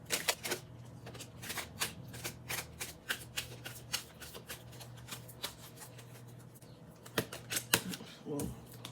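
Tarot cards being shuffled and drawn for a reading, a run of crisp flicking riffles and snaps close by, with quiet pauses between bursts and a faint steady hum underneath.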